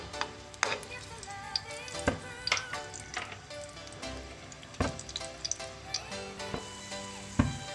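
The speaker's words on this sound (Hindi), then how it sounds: "इसको मैं थोड़ा सा पहले ब्राउन करूँगी लहसुन को।" Garlic sizzles steadily in hot oil as it browns, with occasional clinks and scrapes of a utensil stirring in the pan.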